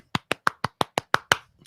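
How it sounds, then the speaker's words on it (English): Eight sharp hand claps in a quick, even rhythm, close and clear, with no talking during the clapping. "I'm going to clap"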